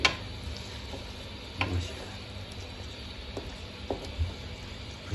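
Chicken karahi masala is stir-fried in a wok (karahi), with a quiet, low sizzle under scattered sharp clinks and scrapes of a spoon against the metal.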